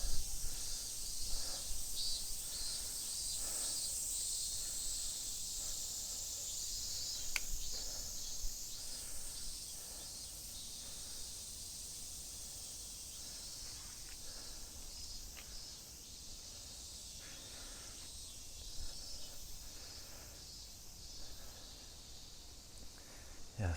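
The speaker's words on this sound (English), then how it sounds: "I think you guys can hear the cicadas" Cicadas buzzing in summer in a residential part of Matsudo, Japan, a high, continuous shrill drone with a faint pulsing texture, steady throughout and moderately distant.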